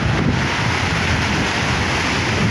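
Sea water and waves wash in loudly at the shore where a ship is being beached at Alang, with constant rushing surf and heavy wind buffeting close to the microphone.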